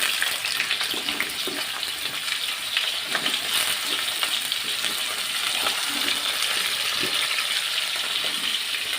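Papaya and potato pieces fry in hot oil in a pan for a chicken curry, giving a steady dense sizzle with small crackles and occasional stirring clinks. No one speaks.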